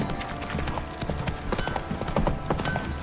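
Horse hooves clip-clop steadily at a walking pace in The Witcher 3: Wild Hunt, close and clear over a low game-world ambience with no talk.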